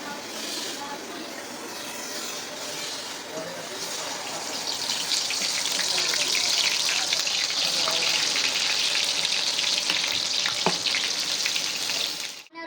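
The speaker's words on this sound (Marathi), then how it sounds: "तेल गरम झालेला आहे. आपण थोडा मसाला टाकून घेऊया." Spices hit hot oil in a kadai, starting as a soft sizzle and swelling into a loud, steady frying hiss that continues for several seconds, with a few clinks of a spoon.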